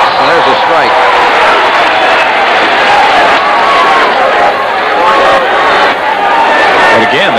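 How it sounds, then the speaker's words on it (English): A crowd roars steadily at a 1989 college baseball game between Texas and Texas A&M, a loud continuous wash of cheering and clapping under a commentator's voice throughout. "And again, the crowd is getting back into this baseball game"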